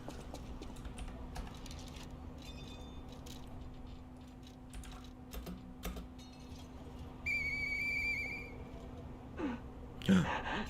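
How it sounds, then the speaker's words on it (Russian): A tonal whistle in the video game Lies of P, sounding around the middle of the clip as a bright held note with stepped harmonics, over a steady low game hum and scattered clicks. "I know that whistle."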